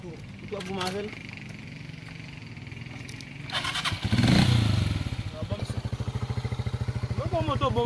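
A motorcycle sputters to life partway through and settles into a loud, close, pulsing idle, with voices talking over the earlier part.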